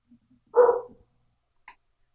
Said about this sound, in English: While my dog barks in the background.